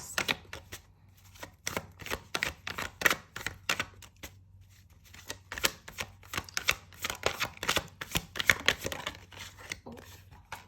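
Tarot cards are shuffled by hand in rapid bursts of crisp flicking and riffling, a dense clatter of snaps that pauses briefly and resumes, close and clear with no talking.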